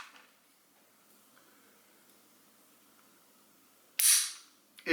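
Trigger of a gun metal gray Daniel Defense DDM4 V7 Pro rifle snaps once, a sharp, close click after several seconds of near silence, followed by a faint second tap at the very end.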